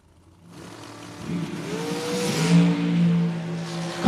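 Drag race car launching off the line at a drag strip memorial event, engine note rising from silence into a loud, climbing roar with shifting tone as it accelerates away down the track.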